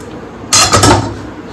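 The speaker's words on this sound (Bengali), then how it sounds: "কড়াইটা নামিয়ে দিই।" A wok holding cooked pointed gourd and prawn curry lifted off a stove, giving a short metallic clatter and scrape of about half a second, close and fairly loud, with no talk.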